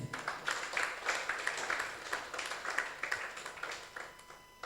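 Applause for Mr. Daudu from a webinar audience, a faint, thin patter of a few people clapping in a loose uneven rhythm.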